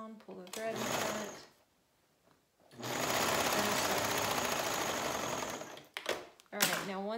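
A sewing machine back tacks a seam on a shirt in two runs, a rapid mechanical chatter of the needle, first briefly and then for about three seconds, with quiet gaps and handling noises between.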